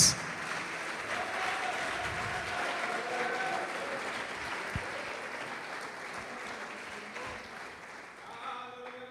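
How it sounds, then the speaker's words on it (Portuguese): A church congregation applauds steadily during a worship service, a dense wash of many hands clapping that holds for several seconds, with a brief sustained tone and faint voices near the end. "Pode aplaudir, adorar a Deus."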